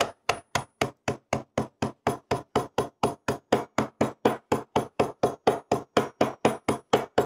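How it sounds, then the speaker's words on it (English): Steady, rapid series of sharp pounding blows, about four per second, each a hard crack of a meat mallet striking and crushing brittle pretzels. "I'm going to use a meat mallet, but you could certainly use a hammer."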